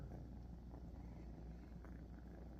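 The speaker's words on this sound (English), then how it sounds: "Can you guys hear him purr?" A cat purrs softly and steadily up close, a low continuous rumbling with no voices over it.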